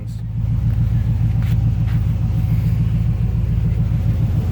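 A 1971 Ford F250 engine idles close by with a loud, steady, even low rumble, with no one speaking over it.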